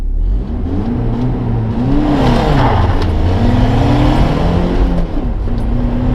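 A rusty, worn BMW E30 Touring on bald tyres with busted shocks accelerates hard, its engine revving loud and close, with pitch climbing and dipping through shifts across the whole stretch with no talk.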